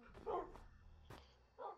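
A dog in a video game gives a few short barks and yips, spaced out with pauses between them, fairly near and moderately loud.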